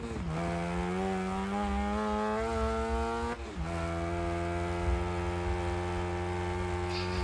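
A Wreckfest 2 car engine drones with rising pitch as it revs, drops briefly at a gear change, then climbs again, steady and prominent throughout.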